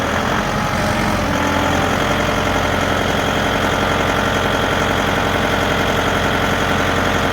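A Massey Ferguson 2705e tractor engine runs loud and close at raised RPM, a steady rumbling drone lasting throughout while a giant log is moved onto a sawmill, with no talking.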